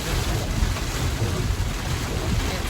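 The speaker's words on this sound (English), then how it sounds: "It's crazy raining." Heavy rain falls in Hawaii, a loud, dense and steady roar of water with deep rumbling underneath, heard alone without voices.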